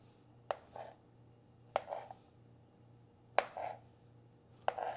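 A knife chops through hot dogs on a cutting board, four sharp, evenly spaced cuts with short gaps between them, close and fairly quiet over a low steady hum.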